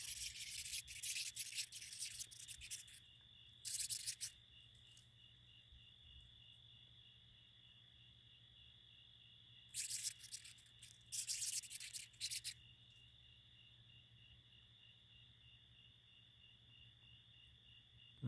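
A pine root borer beetle screeches close by in raspy, buzzing bursts: one cluster at the start, a second cluster after a long quiet stretch, all over a steady low background hum.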